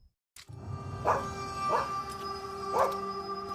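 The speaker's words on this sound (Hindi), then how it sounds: "बस दूर से कुत्तों के भौंकने की आवाज आ रही थी" A few dog barks, spaced out and somewhat distant, ring over a steady low background hum.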